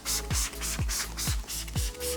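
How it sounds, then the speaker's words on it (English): Four short bursts of a spray bottle in a steady rhythm, spraying iron remover onto a car panel, each a quick hiss with a trigger click, close by and with no talking. "So you're gonna spray the panel."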